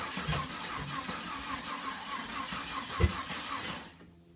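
A 1999 Jeep Cherokee XJ 4.0 engine cranks steadily with a rhythmic starter churn for about four seconds without catching, then cuts off.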